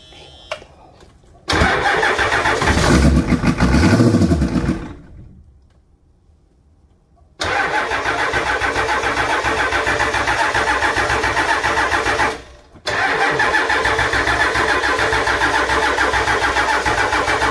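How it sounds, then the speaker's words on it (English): A Ford 7.3 IDI diesel engine turns over with a loud steady cranking drone. The sound stops, resumes for a long sustained stretch, breaks off briefly and then cranks again, close by. "let's crank it up and see if she starts."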